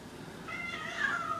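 A vocal house cat that has just eaten lets out a single drawn-out meow that rises and trails off. It is moderately faint, with no talk over it.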